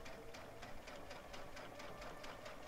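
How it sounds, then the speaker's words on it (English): Sewing machine stitching binding onto minky fabric, a steady fast needle rhythm running continuously at close range with no talk. "Okay, we'll just stitch right along this side."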